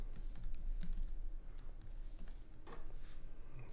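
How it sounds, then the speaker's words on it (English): Fingers type on a computer keyboard, quick soft clicks in irregular bursts with brief pauses, faint and close against a quiet room background. "You can actually just type them out"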